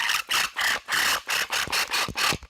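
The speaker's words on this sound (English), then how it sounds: "I'm just using a countersink bit to deburr that hole a little bit inside and out" Countersink bit deburring a freshly drilled hole in a DIY night fishing light, with about eight short rasping scrapes in a steady rhythm, close and moderately loud with brief gaps between strokes.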